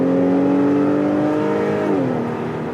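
A 2022 Acura TLX A-Spec SH-AWD engine pulls hard under full throttle, a loud, steady rising drone heard from inside the cabin, its pitch climbing smoothly before dipping near the end as the revs shift.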